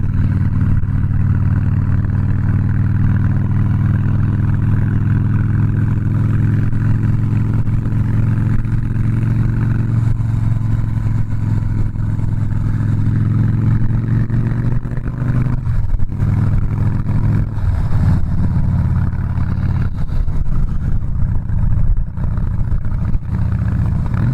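A Harley-Davidson Softail Slim with a 103ci V-twin accelerating, its loud, deep engine droning steadily close by with rising and shifting tone and road noise around it.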